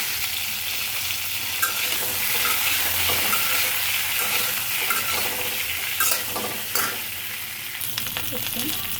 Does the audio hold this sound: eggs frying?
yes